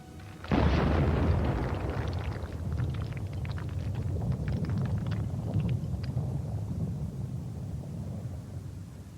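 A deep, loud explosion erupts as a gun emplacement is blown up in Medal of Honor Rising Sun, a sharp blast followed by a long rumbling roar and scattered crackling debris that slowly fades.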